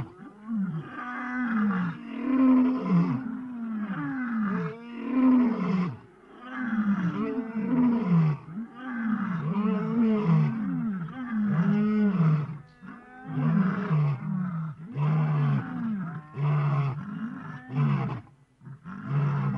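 Lions roaring in the African bush, a series of deep, rhythmic grunting roars repeating over nearly twenty seconds, moderately distant, with no talk over them.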